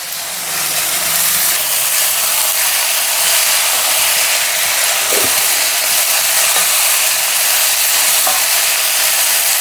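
Shredded cabbage goes into a hot pan of oil and is stir-fried for a Telugu cabbage pickle, giving a loud, steady sizzle with occasional scrape-like stirring strokes throughout.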